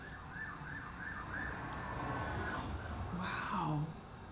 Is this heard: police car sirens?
yes